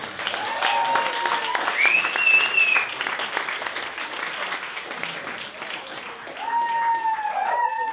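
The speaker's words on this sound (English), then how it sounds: "Give yourselves a round of applause for coming out." A comedy show crowd applauds itself in a steady wash of clapping, with cheers and whoops rising over it and a voice speaking briefly amid the noise.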